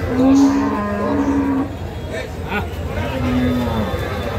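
Cattle at a village livestock market moo in three drawn-out, loud calls close by, Sahiwal, Sindhi and local dairy cows with calves, while people talk and haggle in the background.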